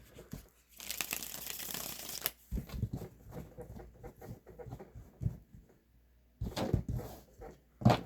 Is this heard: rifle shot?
no